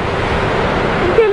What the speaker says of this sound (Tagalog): Ang laki-laki ng karagatan.